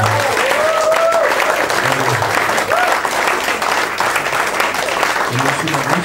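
An audience applauds with dense, steady clapping throughout, while a voice speaks briefly over the crowd.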